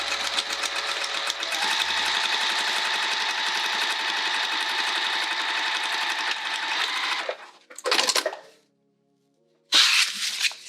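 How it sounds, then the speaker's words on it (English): A sewing machine stitches two lining pieces together along the top edge for a Christine sling bag, running steadily and loudly for about seven seconds, then two short bursts follow after a pause. "sew those together along the top"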